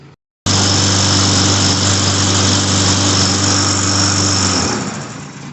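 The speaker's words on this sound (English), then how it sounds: "First pull, fired right up." A Poulan Pro 21-inch lawn mower with a Briggs & Stratton 550EX engine and a new carburetor fires on the first pull and settles into a loud, steady running drone close by, easing slightly near the end.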